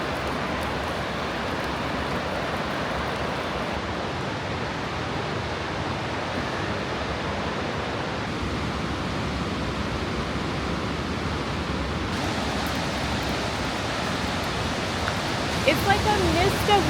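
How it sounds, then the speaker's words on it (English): Water pouring down the rocks at Burgess Falls in Tennessee, a steady, close hiss of falling spray that holds evenly throughout, with a slight rise in the last second or two. "Oh, and there's actually water coming down right here."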